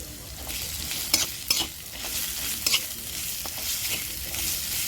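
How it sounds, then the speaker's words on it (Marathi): Green pea paste fries in oil in a kadhai while a spoon stirs it, producing a constant close sizzle punctuated by several scraping, clattering strokes against the pan, with no speech. "कढईमध्ये आपण वाटण घातले। आता याच्यामध्ये आपण धणे, जिरं आणि बडीशेपचं पण वाटण घालूया।"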